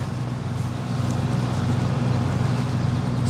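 A truck rolls past outside a livestock facility, a steady low engine rumble and road noise that swells slightly as it nears, with no talk over it.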